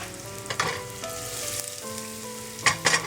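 Thinly sliced medium onion frying in a pan for an Indian moong masoor dal, a steady close sizzle with a few louder crackling bursts as the slices hit the hot oil.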